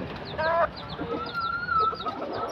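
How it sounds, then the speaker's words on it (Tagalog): A white junglefowl (labuyo) gives clear calls close by, with a short harmonic crow-like phrase and a longer steady whistled tone over rustling outdoor background. "Napakagandang puting labuyo."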